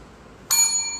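A small tap bell is pressed once, giving a single bright ding that rings on and slowly fades after a quiet start, with no voices.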